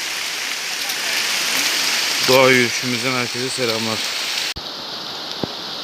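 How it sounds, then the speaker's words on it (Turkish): Heavy rain pours down in the Amazon rainforest during a forest walk, a dense steady hiss throughout, with someone speaking over it partway through before the downpour sound continues alone. "Evet Amazon ormanlarındayız çok fazla yağmur başladı."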